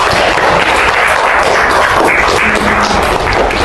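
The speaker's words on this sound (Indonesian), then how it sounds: "Tepuk tangan untuk Jihan." Classroom applause for a student during an Indonesian teacher-training practice lesson on Islamic cultural history, a dense, loud, continuous wash of clapping throughout.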